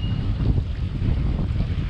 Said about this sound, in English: get a huge gust right here